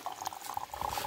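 Water poured into a bottle outdoors during village cooking of mud-foil masala chicken, a steady close gurgling fill with a rising pitch over about a second, no talking.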